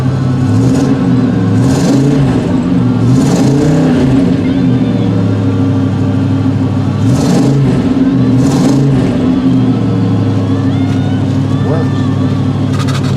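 A Buick Skylark fitted with a 455 engine revs loudly in repeated bursts of throttle over a steady low idle rumble, continuous and close throughout.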